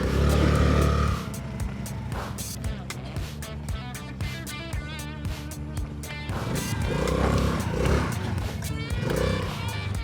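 A Honda Navi motorcycle idles and revs steadily after a carburetor fix, a loud close engine hum that holds without stalling and swells again toward the end.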